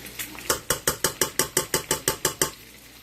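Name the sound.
stirring sour cream into mashed potatoes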